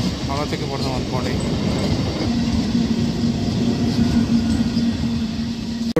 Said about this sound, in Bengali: তারপর গেছে হচ্ছে লোকাল ট্রেনটা হাওড়া থেকে বর্ধমান পড়ে